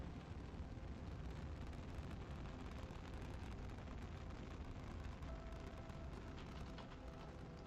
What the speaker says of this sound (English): A rocket malfunction.